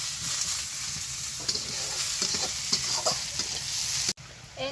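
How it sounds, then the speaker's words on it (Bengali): Onions sauté in hot oil with a steady close sizzle, broken by scraping stirs and clattering spatula strokes. "এই তো তেলের মধ্যে আমি পেঁয়াজগুলো দিয়ে কষাই নেবো"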